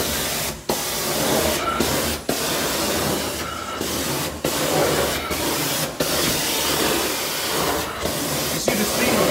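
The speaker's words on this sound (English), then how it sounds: "You see the steamer, man? It's a true steam cleaner. Heavy duty." A heavy-duty steam cleaner sprays steam while cleaning shoes, giving a loud, continuous hiss broken by several brief pauses and short bursts.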